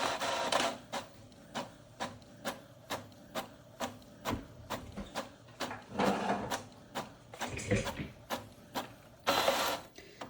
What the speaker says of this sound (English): I use the Eco ET3850, and this is an Epson printer.